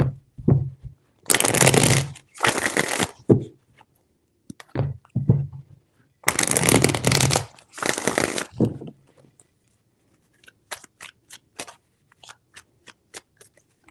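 Close riffle shuffles of a tarot deck come in three loud bursts, followed by a quieter run of sharp clicks and taps as the cards are squared and handled.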